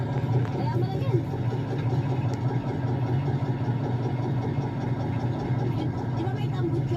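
A vehicle engine idles steadily at close range, a continuous low rumble with no change in pace, its exhaust sound unbroken throughout.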